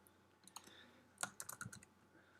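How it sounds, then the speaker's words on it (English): Fingers type on a computer keyboard, a quiet scattered run of light key clicks with a brief busier burst in the middle, heard alone and close. "I've got to switch my keyboard back again because I can't type on a Dvorak keyboard"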